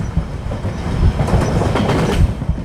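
A train rumbles along the railway beneath a bridge, a steady loud roar with rhythmic clickety-clack of wheels on rails swelling as it draws close, with no voices over it.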